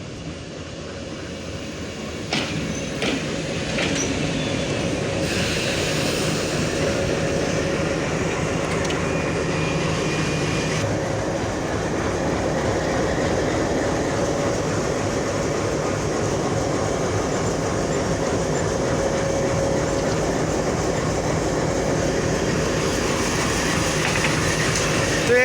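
A WDM 3D diesel locomotive, number 6531, hauls an intercity express through Parbatipur Junction, its loud steady engine drone joined by clattering wheels on rail joints, close by and continuous for the whole stretch.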